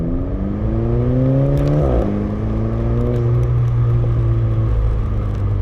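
Volkswagen GTI Mk5 engine revving under manual Tiptronic shifting, harmonics climbing steadily then dropping sharply at a shift before climbing again, loud and close with a steady rumbling drone underneath.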